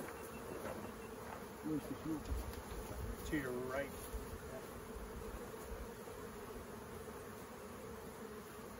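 Bees buzz steadily around an open beehive as it is tended, a continuous close drone with a brief voice speaking partway through.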